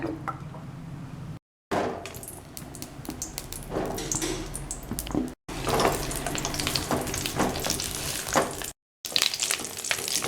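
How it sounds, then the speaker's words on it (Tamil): Brinjal sizzles and crackles steadily in hot oil, with occasional scraping and stirring and brief silent cuts between stretches. "கத்திரிக்காயை நல்லா வதக்கி எடுக்கலாம்."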